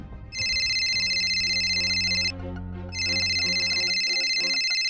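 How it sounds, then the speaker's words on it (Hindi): A phone rings with a loud electronic ringtone, two long bursts separated by a brief pause, close and clear. "रुचि का फोन?"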